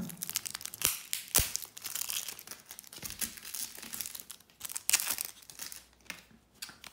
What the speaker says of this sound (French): je vais retirer le jeu du magazine